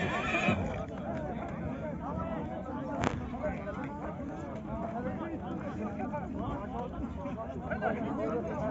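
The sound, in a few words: horse neighing at a buzkashi game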